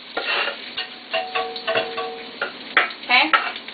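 Corned beef and sausage cook in a frying pan for a Jamaican dish, with soft sizzling and repeated scraping and stirring strokes close by at moderate level.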